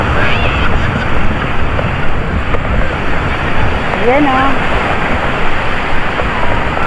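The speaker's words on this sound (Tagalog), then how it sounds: "Malakas na ang alon." Strong sea waves roll in at a Lantau Island beach, a continuous loud rush of surf mixed with gusting wind. Voices chatter nearby over the water.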